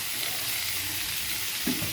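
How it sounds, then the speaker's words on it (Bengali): Pointed gourd (potol) frying in oil in a pan, a steady soft sizzle running throughout with a brief stirring scrape near the end, no one speaking. "এখন পটলটা প্রায় ভাজা হয়ে এসছে হুম ভালোই মোটামুটি ভাজা হয়ে এসছে"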